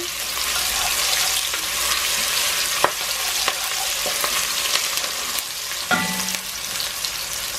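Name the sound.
onions and garlic frying in a pan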